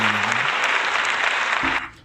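A round of applause during a podcast recording, a steady wash of clapping that cuts off abruptly near the end, with a voice briefly underneath at the start and close.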